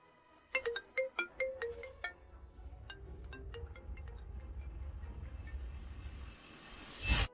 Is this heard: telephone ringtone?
yes